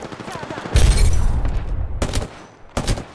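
Gunfire from the Apex Legends video game: a loud, sustained burst of rapid shots followed by two shorter volleys, close and dominant with no voices.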